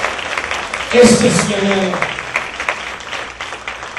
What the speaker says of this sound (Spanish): un aplauso al Señor, mándale.